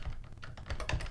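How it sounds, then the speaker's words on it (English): Rapid keystrokes on a computer keyboard, a quick uneven run of close, crisp clicks with no talking. "I'm just gonna type it again because I pressed caps lock."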